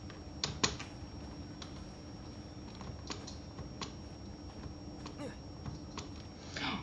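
Typing on a computer keyboard during a Genshin Impact live stream: sparse, irregular clicks and clacks of individual keys, close and fairly quiet over a low steady hum.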